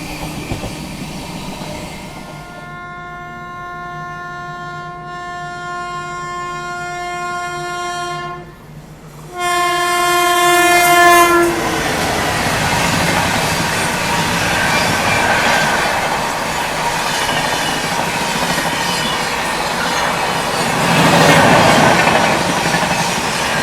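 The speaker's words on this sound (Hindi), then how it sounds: "आप देख पा रहे हो कि जस्ट हमारे पीछे ही है पुरुषोत्तम एक्सप्रेस।" Purushottam Express passing close by near Prayagraj, its loud sustained horn blaring for several seconds with a brief break, then the steady roar and rumble of the coaches rolling past.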